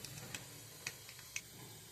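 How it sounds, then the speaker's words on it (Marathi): Mustard seeds pop in hot oil in a kadai, a few faint sharp crackles spaced irregularly over a quiet background. "मोहरी छान तडतडली आहे"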